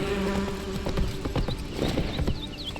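Horse hooves clip-clop in The Witcher 3: Wild Hunt, a run of uneven, fairly close thuds over a dense, continuous game background bed.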